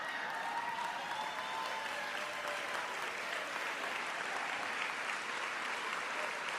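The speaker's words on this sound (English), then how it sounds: "please stand and give her a round of applause." An audience at an education professionals' welcome event gives a steady round of applause: dense, continuous clapping from a large crowd that holds at an even level throughout, with no voices over it.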